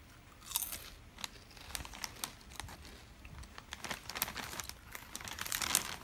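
Someone munches a crunchy corn-flavored Korean snack, a continuous run of close, crisp crackling bites and chewing crunches with rustling in between, steady and fairly loud, with no talking.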